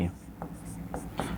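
A short burst of pen or marker strokes as a symbol is drawn for a note in a Hindi grammar lesson, quick scratchy marks broken up by brief gaps.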